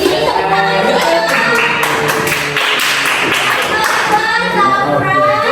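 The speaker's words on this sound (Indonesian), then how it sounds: "tepuk tangan dulu" Classroom applause during a teaching session, a dense patter of clapping mixed with lively children's and adult voices and chatter throughout.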